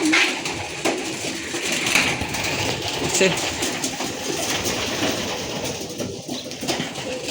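Pigeons resting at a rural spot where goats are kept coo softly in the background, steady and moderately near, while a person talks over them.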